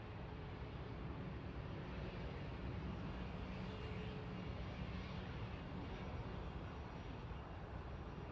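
A Ryanair airliner bound for Marrakesh taxis at Manchester Airport, a steady broadband jet engine roar, constant and moderately distant, with no talking.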